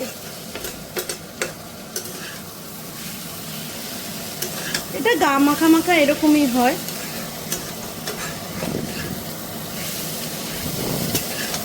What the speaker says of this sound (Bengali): এবার আমি এই ভেজে রাখা মাছগুলো এতে মিশিয়ে দেব দিয়ে মিনিট দশেক মতো এর সাথে একটু ভাজা ভাজা করব